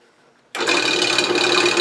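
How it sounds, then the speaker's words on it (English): Drill press boring holes in a wood blank for a turned bird's eyes, a sudden start into a loud, steady whirring grind with a sustained tonal hum, heard alone without talk. "On the drill press, I drill the holes for the eyes."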